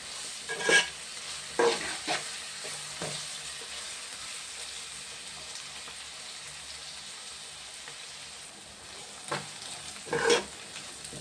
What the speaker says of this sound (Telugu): రెండే తీసుకున్నాను, మీడియం సైజు ఉల్లిపాయలండి. ఇదైతే బాగా ఎగాలండి.